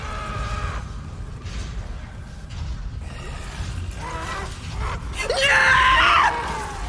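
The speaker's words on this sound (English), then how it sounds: "Imagine being her neighbor and hearing that scream" Woman screaming in fright while streaming the Dead Space Remake horror game, with strained vocal cries building into a loud, piercing shriek near the end, over low game rumble.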